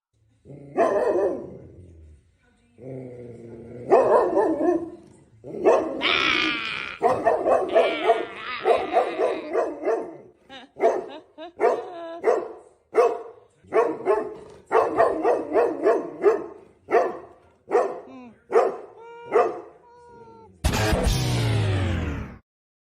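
A dog barks again and again from a played calendar video, a long run of loud, close barks and yips with whimpering tones, ending in a sharper burst.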